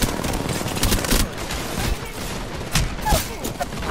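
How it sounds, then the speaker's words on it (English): Gunfire in a ranked online shooter match: rapid, overlapping bursts of automatic shots and sharp single cracks, loud and close, with a voice occasionally underneath. "I'm getting shot from these."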